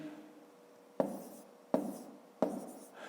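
A pen writes numbers by hand on paper, giving three quiet, sharp taps followed by short scratchy strokes, close and alone with no talk.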